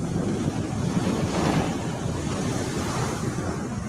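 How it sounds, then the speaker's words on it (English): Ocean waves roll and wash continuously, a loud, dense roar of surf blended with gusting wind buffeting the microphone, with no voices. "Oh, the ocean."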